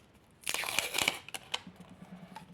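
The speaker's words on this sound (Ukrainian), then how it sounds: "Тож розпакуємо пакетик." A paper packet is torn open with a quick burst of ripping and crinkling, followed by a few small rustles.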